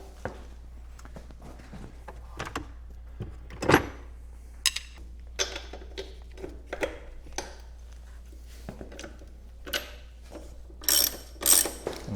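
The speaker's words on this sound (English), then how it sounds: "we're going to back off this axle nut" A ratchet loosening the axle nut on a KLR 650 motorcycle makes a series of close, sharp clicking strokes in irregular bursts, with louder clustered clicks near the end over a low steady hum.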